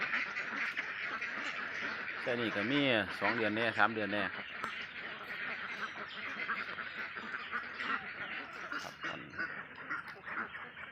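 A flock of ducklings quacks continuously nearby at a laying-duck farm, with someone talking over the steady chorus.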